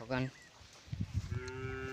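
A cow moos once, short and loud up close, followed by rustling and handling noises, then a long, drawn-out low moo that carries to the end.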